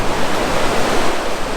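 Ocean waves wash up on Silver Strand Beach as a steady, close, roaring rush of surf that fills the whole moment without a break, with no voices.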